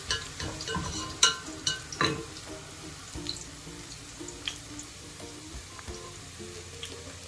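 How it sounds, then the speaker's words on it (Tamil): Whole cinnamon, cloves, cardamom and bay leaf frying in a pan for Arabian-style chicken mandi, a steady low sizzle broken by a few sharp clinks and scrapes of stirring, with no talk. "பட்டை, கிராம்பு, ஏலக்காய், பே லீஃப் அந்த இதை மட்டும் கொஞ்சம் சேர்த்துக்கோங்க. அதையும் சேர்த்து கிளறி விட்டுக்கோங்க."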